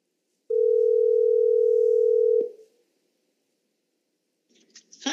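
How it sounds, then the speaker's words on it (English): An Apple Watch placing a cellular phone call, a steady loud dial-type tone holding for about two seconds before cutting off, followed by silence and then faint rustling. "I'm going to tap on the phone app, and I'm going to call Deidre"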